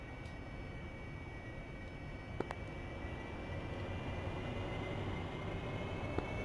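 Harrier jet engine in the DCS flight simulator spooling up, a steady broadband roar with a rising whine underneath that holds even and continuous, with a couple of faint clicks.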